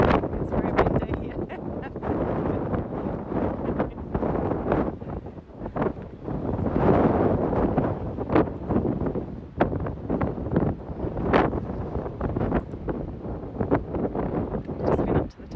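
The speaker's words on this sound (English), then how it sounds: "It's very windy." Gusty wind buffets the microphone in heavy, uneven bursts of low rumble throughout, with faint voices partly buried beneath it.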